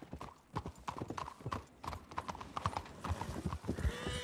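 Horse hooves clip-clopping in the video game Red Dead Redemption, a quick, steady run of close hoof strikes throughout, fairly soft, with a faint whinny near the end.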